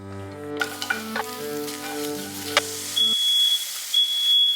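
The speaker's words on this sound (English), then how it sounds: "Now that they've been sauteed and they've got some good color" Mushrooms sauté in a pan with a crackling sizzle and a few utensil taps over a low hum. The hum cuts off partway through, leaving the sizzle alone while a thin, steady electronic beep sounds in two stretches.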